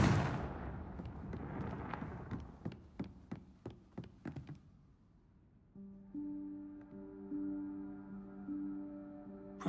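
A Confringo blasting spell from Hogwarts Legacy goes off as a rapid run of sharp crackling bursts, followed by a sustained droning magical tone. No voices are heard.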